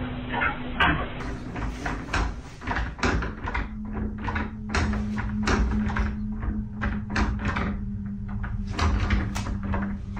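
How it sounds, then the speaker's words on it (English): A closet door rattles and knocks repeatedly in a house, a long run of close wooden taps and thumps over a steady low hum, with no one speaking. "I've never encountered a closet door like that."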